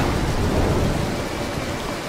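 Steady rain and thunder rumble from a stormy level in the stealth game Mark of the Ninja, a dense, continuous wash of falling rain with low rolling thunder, loud and with no voices.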